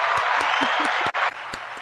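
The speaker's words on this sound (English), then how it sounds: "The crowd is going wild." Applause with cheering from a crowd, used as an added sound effect during an interview show, a brief dense burst of clapping with sharp vocal accents, dipping for a moment before resuming.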